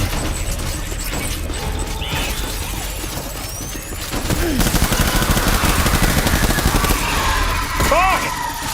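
Gunfire and crashing impacts in the game Death Stranding on very hard difficulty, a steady, dense clatter of shots and shattering hits building up midway, with game voices calling out over the combat.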